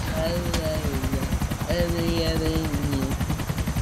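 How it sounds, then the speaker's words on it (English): Police helicopters in GTA IV keep up a constant, pulsing rotor drone under voices and bursts of gunfire. "We've got police helicopters everywhere"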